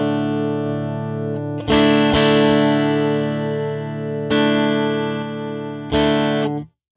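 Electric guitar chords run through a delay effect on a Fractal Axe FX III, four strummed chords each ringing out with sustained, slightly distorted tone and repeating tails, loud and alone until cut off abruptly at the end.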